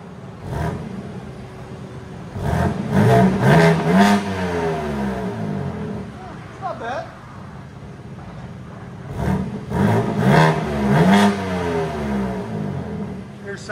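A 2023 BMW M4 Competition with a 3.0-liter twin-turbo inline-six and X-pipe delete exhaust revs hard in repeated bursts, loud raspy climbs and crackling drops separated by idle pauses, close by.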